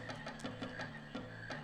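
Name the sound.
frogs croaking in a marsh, from video game Final Fantasy 9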